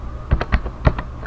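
Someone types a short word on a computer keyboard, a few crisp, close key taps in an uneven rhythm over little more than a second.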